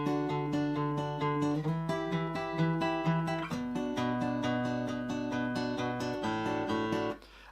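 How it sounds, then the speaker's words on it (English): Fingerstyle acoustic guitar playing a song's melody line at full tempo, quick plucked notes over shifting bass notes, close and even, ending with a short fade, no talking. "And up to speed it sounds like this."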